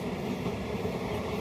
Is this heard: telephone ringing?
no